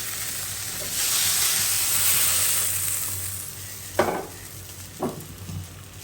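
Eggplant fries in ground spice paste with a loud, close, continuous sizzle and hiss, then two sharp stirring scrapes near the end.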